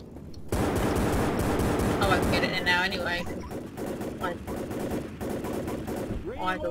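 Rapid pistol gunfire in the zombie shooter Left 4 Dead, a dense, continuous clatter of shots with a constant game din, and people talking over it.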